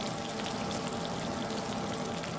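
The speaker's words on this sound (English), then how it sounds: "snapping shrimp sounds like bacon frying in a frying pan" Dense underwater crackling of snapping shrimp, like bacon frying in a pan, held as a steady hiss of fine pops across the whole stretch with no pauses.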